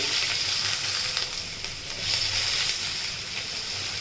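Chopped onion and garlic fry in a hot pan with a steady, loud sizzling hiss that holds throughout, with no voices.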